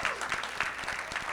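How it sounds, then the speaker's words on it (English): Audience applause at a panel discussion in Express Newark, dense steady clapping from a moderate-sized crowd, fairly close and continuous. "can we just give a round of applause for all those?"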